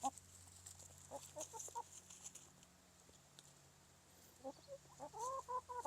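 Chickens cluck in short, soft, scattered bursts while eating Japanese beetles, with quiet pecking and patter between the calls, close by and without talk.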